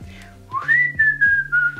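A single person whistles a sustained rising note that glides slowly downward, loud and close, with a low hum underneath.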